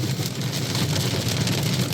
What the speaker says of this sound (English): Yeah, this is hail.